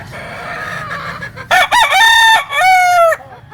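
A gamecock, a grey-white rooster of Talisay bloodline, crows loudly and close by in two long calls after a stretch of low background noise.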